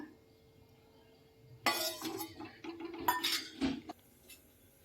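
A wok (kadai) is set down on a stove for cooking mango pickle in mustard oil, giving a burst of metallic clinks and clatters over about two seconds, then a few sharper knocks before it quiets.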